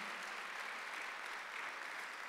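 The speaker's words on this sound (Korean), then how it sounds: "박수를 하세요." Applause from a church congregation during a Sunday worship service, a steady, soft wash of many hands clapping at a distance for a couple of seconds with no talk over it.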